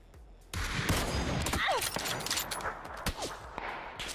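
Gunfire from the player shooting in a third-person video game, a quick string of sharp shots and impacts over a continuous background of game noise, with a voice briefly in between.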